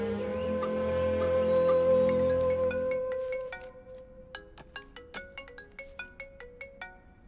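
A melodic telephone ringtone plays alone and fairly clearly. A sustained synth chord gives way to a run of bright, evenly spaced plucked notes.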